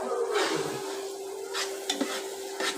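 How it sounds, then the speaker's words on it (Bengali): Goat meat stirred and fried with spices in hot oil, a steady close sizzle with scraping stir strokes recurring every second or so, no voices. "মাংসটা মশলার সাথে ভালোভাবে মিশিয়ে নিচ্ছি"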